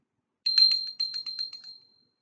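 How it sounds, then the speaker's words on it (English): A small metal bell is shaken near by, a bright ringing jingle with a cluster of rapid strikes followed by several quicker rings that fade into a short decay. "Bells come in all kinds of sizes and things that they're made out of. This one's made out of metal"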